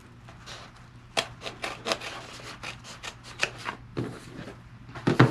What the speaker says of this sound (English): I'm trimming down my seam allowance here and the rest of my zipper tape that's sticking out